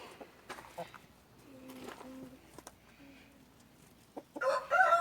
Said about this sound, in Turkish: Onlar da tavuklar.